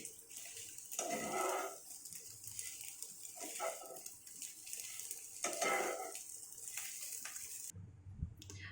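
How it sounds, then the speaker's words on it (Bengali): Bread slices frying in a pan for bread halwa, with soft sizzling and scraping clinks of a utensil as the slices are turned, quiet and close with a brief louder clatter near the end. "পাউরুটিগুলো ছেড়ে দিচ্ছি। উল্টিয়ে দিচ্ছি।"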